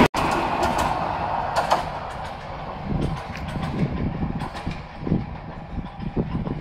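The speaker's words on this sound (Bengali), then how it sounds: "বিশাল লম্বা ট্রেন, এই পাশটা শালবন, শালবনের মধ্যে লোকালয়ের বাহিরে ট্রেন যাচ্ছে ঢাকায়" A long train rolls past beside a sal forest in Gazipur, away from any settlement, heading toward Dhaka; a continuous low rumble carries a rhythmic metallic clatter of wheels that rises and dips as the cars go by.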